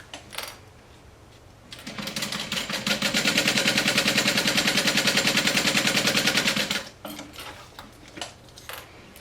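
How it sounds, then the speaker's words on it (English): Home sewing machine stitching a fanny pack seam through fabric with sandwiched webbing, a fast steady run of needle clicks lasting about five seconds, close and fairly loud, with quiet handling noises before and after. "And you're going to sew around with 1/4 inch seam allowance."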